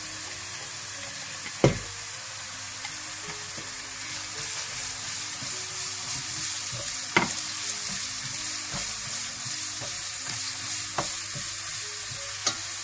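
Shredded cabbage stir-frying for vegetarian Hakka noodles, a constant low sizzle in the pan with occasional sharp knocks of a spatula against the pan, close and steady with no talk.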